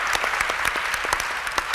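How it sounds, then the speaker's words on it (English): Brief burst of audience clapping at a local food-labeling organizers' gathering, steady and fairly close, with a few sharper individual claps standing out and no talking. "Rowan, please clap your hands"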